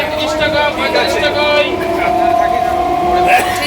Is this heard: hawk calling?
no